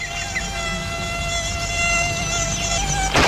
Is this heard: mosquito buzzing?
yes